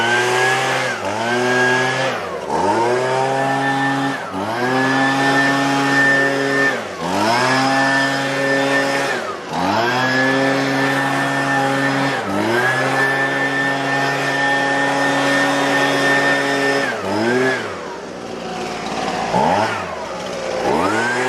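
A Husqvarna 125B handheld gas leaf blower runs loud and close, its small two-stroke engine whining steadily with repeated throttle surges and dips every couple of seconds, before easing back near the end.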